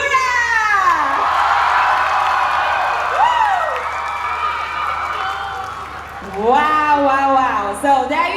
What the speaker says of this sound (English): you gotta scream another round because we have Sikura